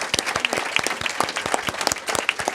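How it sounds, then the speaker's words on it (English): Audience applause at the grand opening of a San Francisco healing center, a dense burst of many hands clapping at close range that holds steady for a few seconds with no talk over it. "So let's give them a round of applause."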